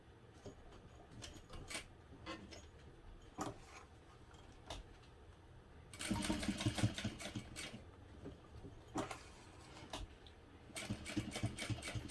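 A sewing machine set to a longer stitch runs a 1/8 inch seam, attaching the main zipper tab to the zipper of a hobo bag. It whirs in short intermittent bursts, then a longer, louder run near the end.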